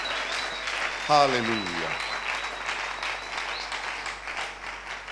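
Church congregation applauds steadily in a loud, dense wash of clapping that runs throughout, with a single voice calling out briefly over it.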